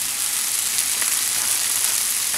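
Sliced onions fry with a sprinkle of brown sugar in a pan, a steady, loud bright sizzle with faint crackles, close and unbroken by talk.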